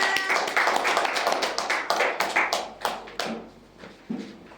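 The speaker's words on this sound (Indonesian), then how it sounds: "Tepuk tangan." A classroom of students claps for a group, with a quick run of sharp, distinct handclaps at close range that thins out into a few scattered final claps.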